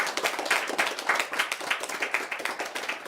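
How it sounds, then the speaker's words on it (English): Applause from a lecture audience, individual claps distinct and quick, a lively uneven patter from a modest crowd nearby, without any talking. "if we can give all of them a big round of applause"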